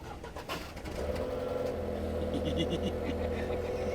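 A BMW 645ci with a straight-through exhaust starts up and settles into a steady, deep idle rumble, heard close by with faint background noise before the engine catches.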